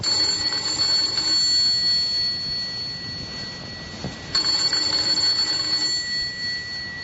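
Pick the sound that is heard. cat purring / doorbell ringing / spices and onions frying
doorbell ringing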